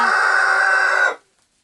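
A rooster on a small farm gives a single loud, close, sustained crow lasting about a second, which cuts off abruptly into silence.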